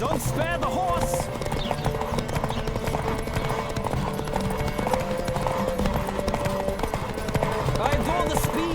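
Rapid hoofbeats of a galloping horse in The Witcher 3, a steady driving clatter mixed with game music while voices talk over the ride.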